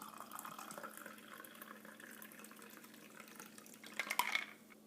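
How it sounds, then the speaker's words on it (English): A chilled G-Cell cocktail, tinted with black food coloring, is poured into a glass with a soft, steady liquid trickle that swells into a brief louder splash at the end, with no talk. "When it is nice and chilled, pour it in."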